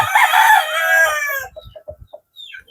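Rooster crowing loudly and close at a house with breeder chickens and chicks, one long harmonic crow followed by a run of short clucks and soft peeps.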